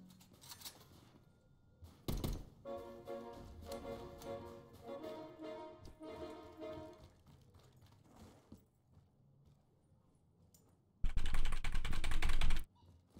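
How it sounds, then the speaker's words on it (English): A computer keyboard gets hit hard during a modded zombies game: a burst of loud typing and clatter, then scattered keystrokes, then a final heavy, sustained smacking close to the mic. "Loud keyboard smack."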